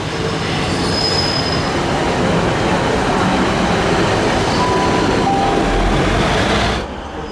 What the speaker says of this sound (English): when a train's coming, you hear the hiss.